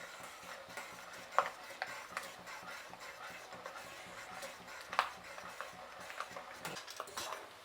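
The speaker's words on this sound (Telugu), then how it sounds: "పల్లీలు అనేది మంచి రంగు వచ్చినాక తీద్దాము. ఇలా కలుపుతూనే ఉండాలి." Peanuts stirred in a pan of hot oil while frying for a mixture snack, giving light scraping and clinking of a spoon against the pan, with a few sharper knocks standing out over a low sizzle.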